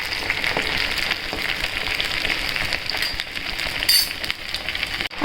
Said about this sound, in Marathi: आता मी सगळे वडे ह्यामध्ये सोडते तेलामध्ये आणि छान शांततेने तळून घ्यायचे आहेत